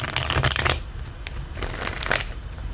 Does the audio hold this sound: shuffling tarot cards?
yes